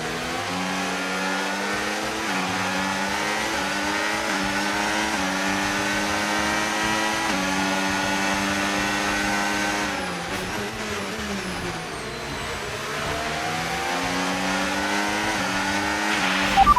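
Race car engines rev at the start of a race in the F1 25 video game, a dense, continuous, loud whine with many layered engine tones shifting up and down in pitch.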